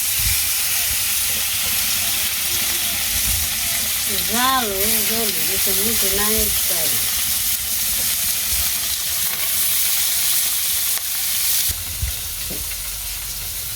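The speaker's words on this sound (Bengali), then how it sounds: "কড়াইতে তেল দিয়ে দিলাম এখন মাছ ভেজে নুই" Koi fish fry in hot oil in a wok with a dense, loud, continuous sizzle and hiss that lasts throughout. A brief wavering voice-like tone rises partway through.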